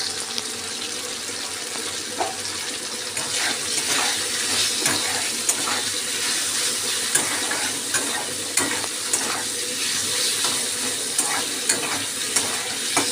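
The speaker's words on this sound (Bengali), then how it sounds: "উচ্ছেটা ভাজা আমার প্রায় হয়ে এসেছে।" Continuous pan sizzle of bitter gourd frying, with intermittent scraping and stirring clicks, fairly loud and close, no talking.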